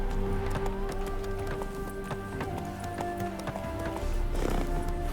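Horse hooves clip-clop in a steady galloping rhythm in The Witcher 3: Hearts of Stone, close and loud over a bed of game music, with a brief whinny near the end.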